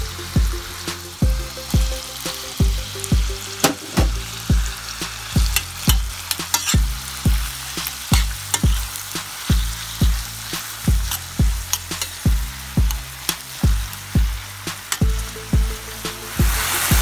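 Ham and chorizo sautéing on medium-low heat for a Galician white bean soup, with a steady sizzle broken by regular, rhythmic scraping strokes of a utensil stirring the pan, close and fairly loud.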